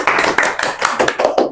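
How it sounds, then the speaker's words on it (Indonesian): Short burst of hand clapping from a university teaching session audience, close and uneven, with a few distinct claps in quick succession. "Oke, ya, tepuk tangan dulu."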